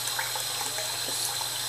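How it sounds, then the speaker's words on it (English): Lukewarm bath-temperature water trickling slowly into a cup while bathing a mealworm colony, a steady close hiss of running and splashing water with no break and no talking. "Just dribble it in nice and slow."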